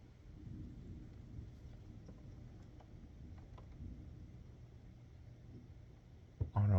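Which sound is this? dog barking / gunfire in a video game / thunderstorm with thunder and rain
thunderstorm with thunder and rain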